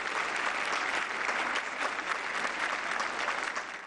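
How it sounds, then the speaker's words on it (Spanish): Mourners applauding at a tribute ceremony for a singer at the Palacio de Bellas Artes in Mexico City: steady, dense clapping from a large crowd, continuous and even throughout. "Allí le rindieron un homenaje con aplausos"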